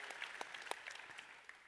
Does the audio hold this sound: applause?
yes